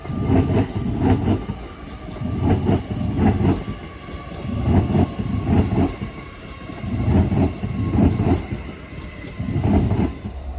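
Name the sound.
Avanti passenger train passing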